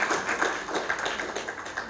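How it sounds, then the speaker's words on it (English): Conference audience clapping, a brief, fairly faint burst of many hands patting in quick, uneven rhythm with no voices. "More applause, please,"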